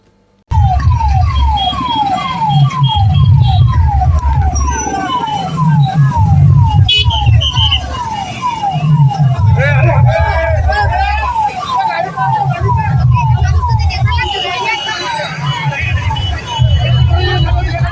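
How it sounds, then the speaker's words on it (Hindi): An ambulance siren wails in a steady repeating up-down pattern through heavy road traffic during a political motorcycle rally, with a dense rumble of engines and crowd babble underneath for the whole stretch. "उसी सड़क पर एक एम्बुलेंस आ रही थी"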